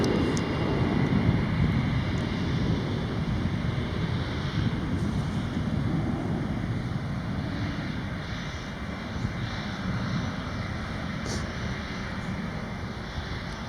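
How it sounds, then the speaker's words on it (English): An airplane passes at Charlotte airport, its broad, roaring engine noise sustained and loud throughout, slowly easing toward the end. "Okay, we have a plane."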